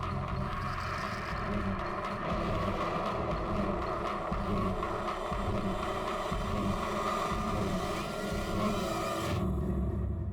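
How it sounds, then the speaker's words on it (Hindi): A steady, low engine rumble from a car heading off fills the scene, mixed with wind noise, then cuts to near quiet at the very end. "सर शायद वो गाड़ी लेके निकल रहा है।"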